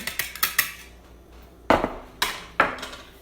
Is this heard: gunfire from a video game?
no